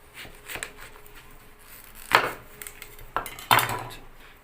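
A knife cuts white squash for a lime-soaked pumpkin dessert, producing several sharp, close knocks of the blade against a board amid light scraping.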